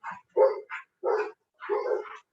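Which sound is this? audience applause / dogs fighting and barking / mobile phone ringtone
dogs fighting and barking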